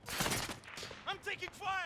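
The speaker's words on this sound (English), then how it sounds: "I'm taking fire!" Rapid gunfire in the Call of Duty Warzone video game, a dense burst of shots up front followed by scattered cracks, while a voice speaks in short bursts over the shooting.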